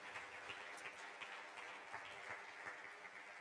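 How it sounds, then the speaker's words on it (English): A church congregation gives a praise clap, a soft, steady patter of many hands with occasional distinct claps, faint and lasting about three seconds. "Let's give the Lord a praise clap for those folks."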